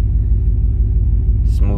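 A pickup truck with a cammed LT 5.3 V8 rumbles loud and close while driving, a deep steady drone with a short hiss near the end.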